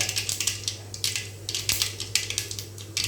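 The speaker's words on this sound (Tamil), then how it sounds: "கடுகு பொரிஞ்சிருச்சு" Mustard seeds crackle and pop in hot oil for a nasi gooseberry rasam, a dense run of sharp, close crackles over a steady low hum, with no voices.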